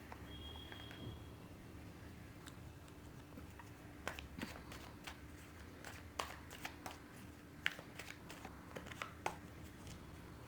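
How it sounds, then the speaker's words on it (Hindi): Tarot cards being shuffled by hand, soft papery flicks and light clicking taps, quiet and close, with no one speaking. "मैंने प्री शफल करके रखे हुए थे कार्ड्स, तो मैं ज़्यादा इसीलिए शफल नहीं कर रही हूँ"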